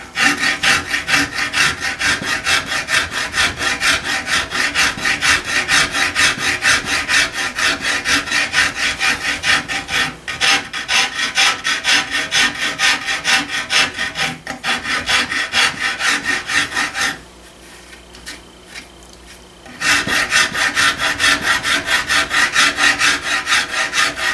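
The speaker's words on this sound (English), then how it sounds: "Switch to a smoother rasp." A smooth rasp files steadily across wood in a gunsmith's shop, loud close rhythmic strokes continuing for most of the stretch, pausing briefly to a quiet hum before resuming.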